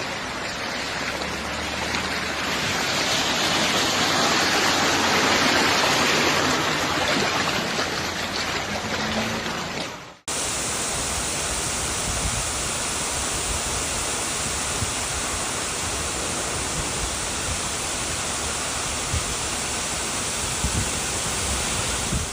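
Flash-flood water rushing through the streets of Marseille, a dense, loud roar like a torrent or waterfall that runs without a break, with a sharp cut partway through into a second, steadier stretch of rushing water.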